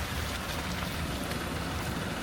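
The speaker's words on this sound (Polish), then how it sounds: "Trochę zwolnił deszcz." Rain falling outdoors, a dense, steady hiss of drops pattering on surfaces, uniform and close with no voices.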